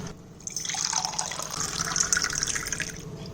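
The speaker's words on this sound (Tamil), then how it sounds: "இப்போ இதில் 4 டம்ளர் தண்ணி விட்டுருக்கேன்" Water poured from a tumbler into a vessel of sago for soaking, a steady splashing stream heard up close and alone, rising after a brief quiet start and running continuously.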